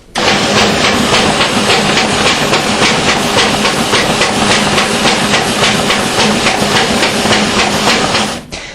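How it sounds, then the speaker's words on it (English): A Duplo V350 forms burster tearing apart continuous tractor-feed paper and trimming the side strips, a loud steady mechanical whir with rapid rhythmic ticking that runs evenly for several seconds, then cuts off abruptly near the end. "many people do need a burster to tear that apart, cut the side trim off, so that it can be mailed"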